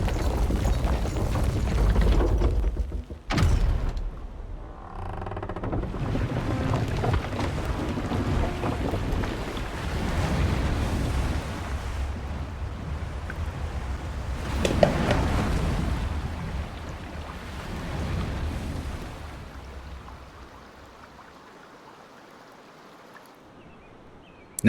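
Water rushing and draining in the video game Wuchang, a broad, steady roar that swells and fades over about twenty seconds, with a sharp break early on before tapering toward near quiet at the end.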